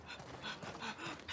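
A video game dog pants in quick, breathy, continuous rhythm, close and fairly soft, alone with no talking.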